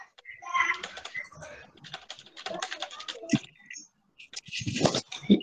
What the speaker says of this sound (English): we can hear you typing something